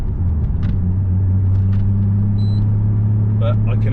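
A Volkswagen Golf's engine, a steady low rumble droning loudly and continuously with faint clicks and short tonal chirps on top, heard from close by with no clear talking over it.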